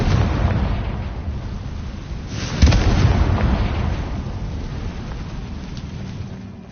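A fire-blast spell explodes in the Hogwarts Legacy video game: a sudden loud burst rises out of a steady rumbling roar, then fades slowly into a continuous low din.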